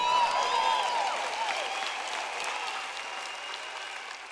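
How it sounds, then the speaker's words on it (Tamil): Audience applause during a Tamil-language Christian sermon fills the hall in a steady, dense wash of many hands clapping, loud at first and tapering slightly toward the end. "தேவோட புத்திசாலித்தனத்துக்கு கைத்தட்டுங்கள்"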